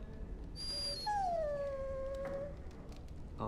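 A dog in Dragon Age Origins gives a single drawn-out whimper, a thin falling whine that holds for over a second and then trails off, heard up close over steady game background noise with no talk.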